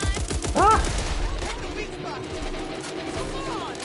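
Rapid gunfire bursts at a creature in Back 4 Blood, loud and close over rumbling ambience, with a shout breaking through near the start.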